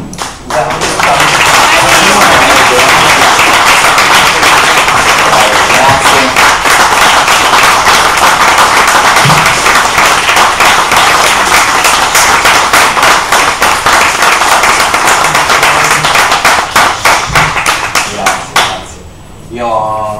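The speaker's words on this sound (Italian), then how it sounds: "Giovanni, l'ultimo applauso ce lo prendiamo insieme." Sustained audience applause after a poetry reading by Giovanni Foti at Melito P.S., a dense crowd of clapping hands holding steady for most of the stretch before thinning out near the end.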